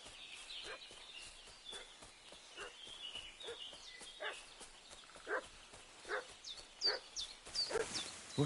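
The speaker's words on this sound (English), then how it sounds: "What's that dog making such a fuss about?" Agitated barking from a dog in the medieval open-world game Kingdom Come: Deliverance 2, sharp repeated yaps rising in loudness toward the end, with no voices over it.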